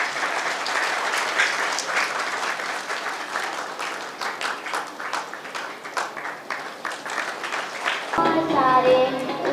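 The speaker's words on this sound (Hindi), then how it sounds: "प्रभावी ताली बजा।" Audience applause fills a Good Friday gathering right after a picnic race prize announcement, sustained dense clapping for about eight seconds before it gives way to a different, more tonal sound at the end.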